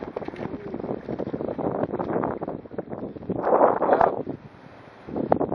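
Strong wind gusts buffet the microphone while kayak sailing near shore, a continuous roar that swells and falls, with a brief spoken word.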